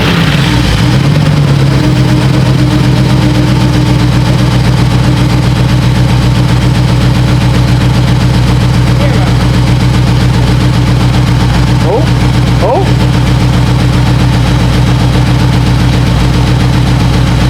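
V8 engine swapped into a BMW E36, just rebuilt with a new oil pump, cranks and settles into a steady, loud idle with a deep continuous rumble throughout, while people talk over it.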